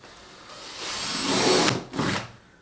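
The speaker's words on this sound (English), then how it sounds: "I take an electric drill and put the holes through" An electric drill whines up into a close, rising bite as it drills holes in a kayak, pauses briefly, then drills again before winding down.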